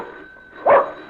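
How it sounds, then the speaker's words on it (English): A single short dog bark rings out in a 1940s radio drama, sharp and close against a quiet room tone with a faint steady hum. "That dog bite? Sometimes."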